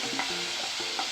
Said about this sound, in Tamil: இந்த முந்திரி திராட்சை எல்லாம் வறுத்த நெய்யிலே இந்த பைனாப்பிளை போட்டு நம்ம வறுத்துக்கலாம்